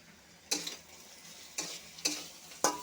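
Turmeric, coriander and cumin powder frying in a pan, with four distinct bursts of sizzling scrapes as the spices are stirred, separated by a faint quiet background, close by.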